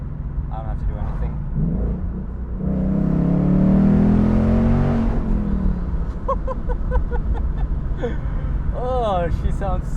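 A 2021 Ford Mustang GT Convertible with a manual gearbox revs hard while being driven, its engine rising to a loud, swelling roar and then falling back under a steady road rumble, with someone talking close by.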